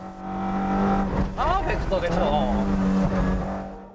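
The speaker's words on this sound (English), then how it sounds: "Old film footage of mountain racing in Japan." Engines roar and rev as cars race past on Japanese mountain roads in old drift racing footage, with whining, squealing tones rising and falling, under some talk.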